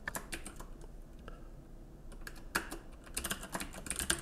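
Rapid, irregular keystrokes on a computer keyboard while entering Python code, clattering in close bursts with short pauses between runs of keys.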